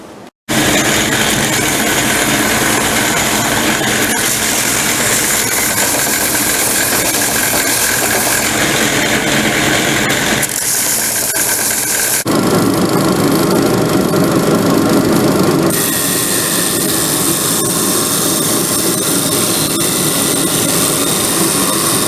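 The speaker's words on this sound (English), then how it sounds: "Let me go ahead and begin to shape this thing on the sander" Power sander shaping a laminated hard maple and oak piece for an old-time carpenter's tool box, a loud steady whine that runs throughout, shifting in pitch and intensity as the wood is pressed against it.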